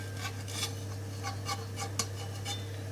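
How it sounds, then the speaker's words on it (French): A spatula scraping around the edges of a crêpe to loosen it from a frying pan: repeated short metallic rasps in an uneven rhythm over a low steady hum, close by and fairly quiet, with no talking. "prendre cet instrument, donc une spatule, pour relever les bords, comme ceci, tout autour de la crêpe"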